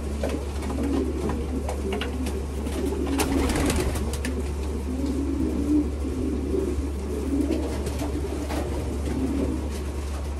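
Racing pigeons in a loft give low, repeated cooing calls over a steady background hum, with occasional soft rustles and knocks.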